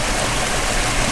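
Water rushing out of a two-foot-wide hole at the end of a sinkhole, a loud, steady broadband roar of flow with no pauses, close by.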